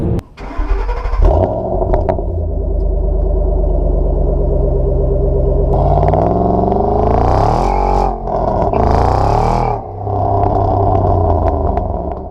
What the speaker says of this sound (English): you got the supercharger whine, and it sounds like pure American V8